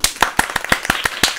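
Sharp, close hand claps repeated in a steady rhythm, about six per second, each one a distinct crisp crack with no voices alongside.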